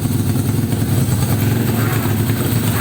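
A Honda XRM 125 motorcycle bored out to 316cc with a four-valve head and a Colkit exhaust pipe, running steadily with a dense, throbbing low rumble and mechanical clatter, close and loud throughout.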